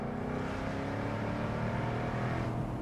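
A supercharged 5-liter V8 in a Jaguar F-Type convertible roars through quad exhausts, a steady, loud, close engine drone held throughout with a deep rumbling tone.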